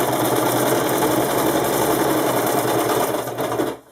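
A sewing machine stitches Velcro and elastic with a steady, loud, rapid mechanical whir that runs continuously and then slows and stops at the end.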